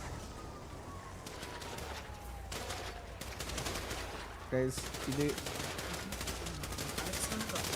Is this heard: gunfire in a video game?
yes